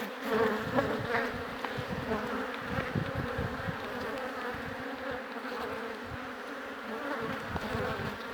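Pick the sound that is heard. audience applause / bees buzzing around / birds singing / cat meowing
bees buzzing around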